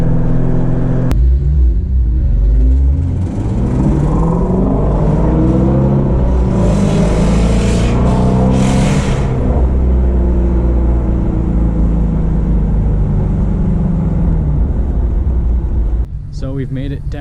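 A car's exhaust drones and rumbles steadily while driving, rising and falling with gear changes, with a Nissan GTR following behind; the engine note stays loud and continuous throughout.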